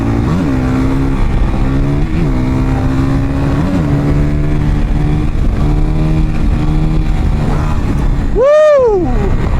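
A Honda CRF 450 fuel-injected dirt bike rides hard beside buggies, its engine loud and close, winding up through gears with rising and falling revs. It peaks in a sharp high whine near the end.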